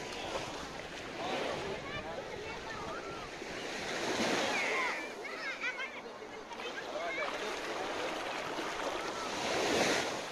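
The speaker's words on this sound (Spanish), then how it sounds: "Playa" Surf washing onto Praia Daniela beach in Florianópolis, a soft continuous wash of waves with gentle swells, fairly faint and distant, mixed with wind noise on the microphone.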